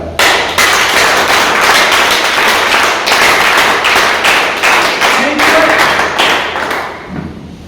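A crowd of people applauds loudly and continuously at a chairman's office gathering, dense hand clapping filling the room for several seconds before tapering off near the end.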